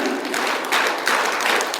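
Workshop participants clap together in a group exercise, urged to keep going and get louder, a busy close wash of many hands with faint pulsing accents.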